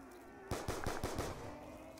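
Rapid automatic gunfire from a weapon in Call of Duty Zombies on a farm map, a quick burst of about six sharp, loud shots over under a second, followed by a lingering ringing tail over a steady game background hum.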